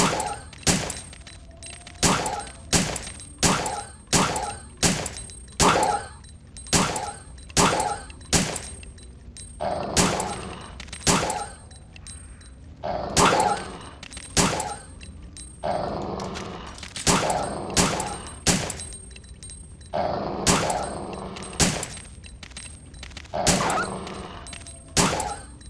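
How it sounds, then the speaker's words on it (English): A Resident Evil 3 handgun fires dozens of sharp, loud shots in uneven bursts at zombie dogs, with snarls and thuds heard between the shots. "Instead, I'll bust out the handgun and try to eliminate them that way."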